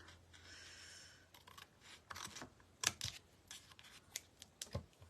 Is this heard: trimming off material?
yes